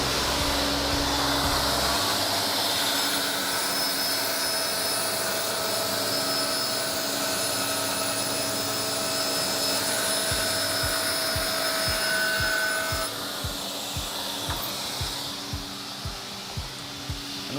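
Saw cutting strips from a wooden board for upper cabinets, a loud sustained whining roar that drops away, followed by a series of sharp knocks and clatters close by.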